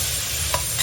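Celery stalks and wood ear mushroom are stir-fried in a wok over high heat, giving a steady sizzle with two quick clinks of the spatula near the end.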